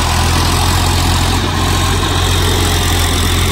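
A farm tractor fitted with a rotavator runs steadily, a loud, constant engine drone with deep low rumble and no change in pace, with no voices.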